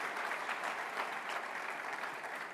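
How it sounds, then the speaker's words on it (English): Audience applause at an entrepreneurs' summit fills the room, a steady dense wash of many hands clapping at moderate distance, fairly soft, with no voices over it. "Round of applause for the other speakers on this program."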